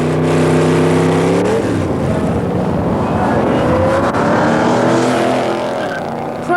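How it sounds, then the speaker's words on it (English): A pro street drag racing car from 1988 accelerating hard, a loud engine roar climbing in pitch through the gears, with a brief shift partway and a sustained rasping exhaust throughout. "you may like to indulge in some pro street drag racing to test the acceleration."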